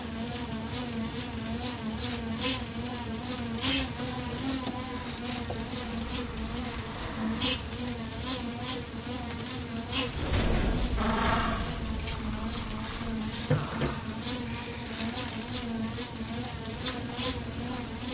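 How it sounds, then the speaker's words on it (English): Insects buzzing, mosquitoes and flies, a continuous dense droning hum that swells and wavers in and out at steady loudness for the whole stretch, with no voices. "Get the mosquitoes off."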